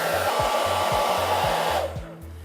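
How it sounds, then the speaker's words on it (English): A hair dryer fitted with a diffuser blows a steady, loud, close rushing whoosh while drying a woman's curly hair, then cuts off near the end. "we're going to take our diffuser and now begin to diffuse it dry"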